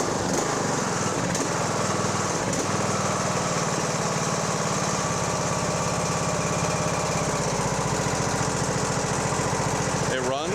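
A Husqvarna YTA18542 riding lawn mower engine, just back from a cam replacement and with about 280 hours, starts up and runs with a steady, close drone that continues to the end.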